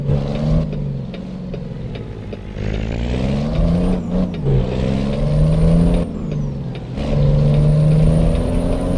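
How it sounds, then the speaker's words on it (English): A heavy truck engine in American Truck Simulator drones and shifts pitch through several rising and falling pulls, loud and continuous, suggesting engine braking with gear changes and no talking. "the jake brake sounds pretty nice on this"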